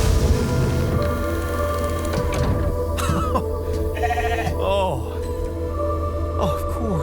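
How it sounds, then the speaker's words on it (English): A sheep in The Alters video game bleats in several wavering calls over a low steady hum of ambient game sound, with a few sharp clicks and tones in between. "What else? A sheep."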